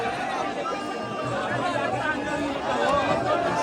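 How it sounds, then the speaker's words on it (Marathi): Dense, steady crowd chatter fills the air at the Jotiba temple yatra in Kolhapur, many overlapping voices blending into a continuous close hubbub with no single speaker standing out. "काय गर्दी आहे बघा"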